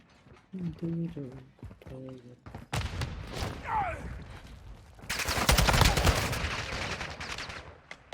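Gunfire from a Call of Duty multiplayer match comes in sharp bursts and rapid automatic volleys, loudest toward the end, while players talk over the game audio.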